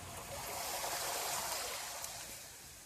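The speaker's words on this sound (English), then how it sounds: "Maybe you can hear the water fountain behind me." An outdoor water fountain in Hagerstown, Maryland, splashes in a constant hissing rush of falling water, moderately close and even, with no voices over it.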